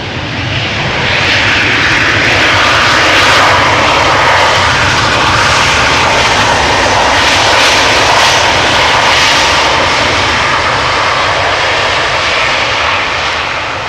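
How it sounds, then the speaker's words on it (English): A KLM Airbus A321neo takes off at Amsterdam Schiphol, its jet engines swelling quickly into a loud, sustained roar that holds steady and close before easing slightly at the end, with no voices. "the latest A321neo from KLM taking off to Aarhus"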